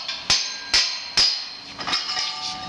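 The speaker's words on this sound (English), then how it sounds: "they hit it with a 16-ounce hammer" A 16-ounce hammer taps a brand new clamp three times in even succession, sharp metallic clinks with ringing decay, followed by a few lighter knocks, close up with no speech.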